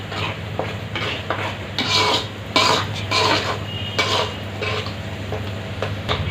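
Tomatoes frying in a pot for fish curry (chepala pulusu) and stirred steadily with a spoon, giving repeated close scraping and rubbing strokes against the metal over a low, steady background hum.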